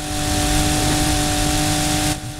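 Car engines rev in the racing game Need for Speed Heat with a loud, sustained, droning roar that holds steady and then drops off sharply near the end.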